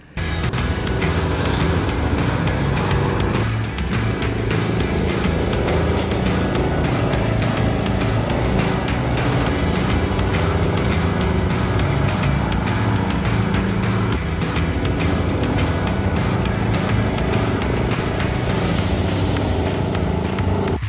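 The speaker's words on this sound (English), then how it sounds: "I still took time to test out this new garden tractor." A new John Deere garden tractor engine runs continuously at a steady, loud, close drone with a rough rhythmic pulse, holding nearly the same pitch throughout with no talk over it.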